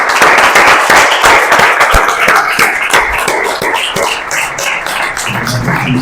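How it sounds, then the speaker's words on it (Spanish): An audience claps to welcome bullfighter Ismael Martín at an event: dense, loud, close hand clapping that stays fairly even for several seconds before thinning slightly, with no speech. "le damos la bienvenida con un aplauso a Ismael"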